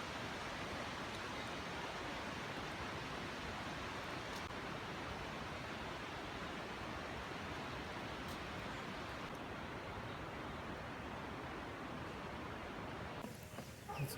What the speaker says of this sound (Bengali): সব বৃষ্টি হচ্ছে, হালকা হালকা পানি পড়ছে